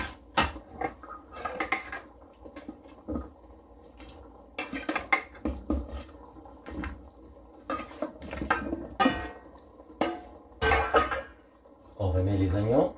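Beef, bones and vegetables are tipped back into a pot-au-feu stew pot, with busy clattering, scraping and knocking of pot and utensils that comes and goes in irregular bursts.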